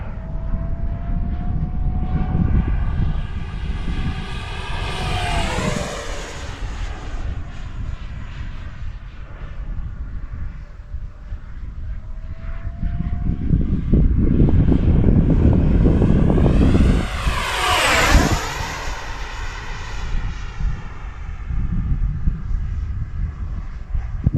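A Freewing Vulcan RC model jet flies overhead with a loud, whooshing turbine-like roar, sweeping past twice with rising and falling pitch, close and intense at each pass, with wind buffeting the microphone.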